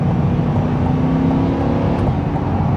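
A 2023 Chevrolet Corvette Stingray accelerates with a loud, continuous engine roar heard up close and unbroken throughout.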